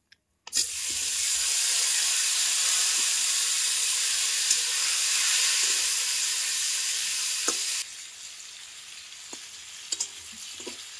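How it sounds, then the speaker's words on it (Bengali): Stuffed ridge gourd dropped into hot oil with fried cumin and curry leaves, bursting into a loud, steady sizzle that drops to a quieter crackle with occasional pops. "এর মধ্যে আমি পুর দেওয়া ঝিঙেটা দিয়ে দিচ্ছি"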